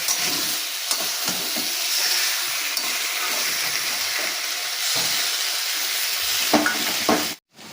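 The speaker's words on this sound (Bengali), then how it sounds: "দিয়ে দিচ্ছি কিছুটা পরিমাণ টমেটো কুচি এবার আমি ভালো করে কষাবো" Chopped tomato masala frying with potato and eggplant in a pan, a steady close sizzle with stirring scrapes and small knocks, cutting off sharply at the very end.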